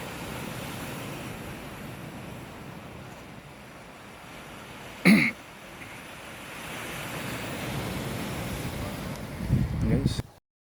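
Steady sea waves and surf roll in at a virgin stretch of sea by a village fishing ground, a continuous wash with wind noise on the microphone, a sharp bump midway and a swell of louder surf near the end.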